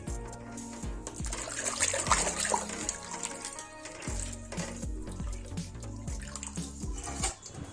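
Saag greens being washed in a bucket of water give off repeated splashes, sloshes and drips, a close, busy liquid clatter over a low humming background.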